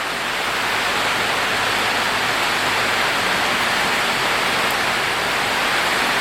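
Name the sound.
heavy tropical rain on a stormy night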